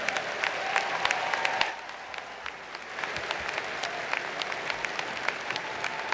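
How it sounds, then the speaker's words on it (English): Audience applause at a university engineering undergraduate commencement ceremony: a crowd claps steadily with scattered louder claps and a brief dip midway before the clapping picks back up, moderately distant in a large hall. "How about a round of applause for our Golden Terps?"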